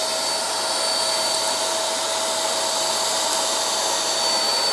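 A Lidl Parkside wet and dry vacuum cleaner sucks up dust with its suction head lifted slightly, a loud, continuous airy roar with a steady whine, running alone without talk.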